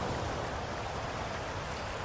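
Gentle sea waves ripple and burble onto a sandy beach at sunset, a soft, continuous wash of water with no distinct breaks.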